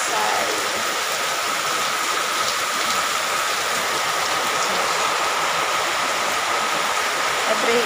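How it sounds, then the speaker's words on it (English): Dense, steady hiss of heavy rain pouring without pause, loud and close, with a faint rattling texture running through it. "All wet because the rain is going here."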